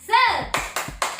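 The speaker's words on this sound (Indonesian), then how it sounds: "Kita sama-sama tepuk semangat ya." Children at an Indonesian school chant a rhythmic clapping cheer, a sung voice line followed by a few sharp, evenly spaced group claps, close and fairly loud.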